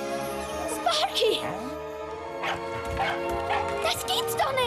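A dog barks and yips in a film trailer, short sharp barks mixed with whimpering, heard amid music and people talking.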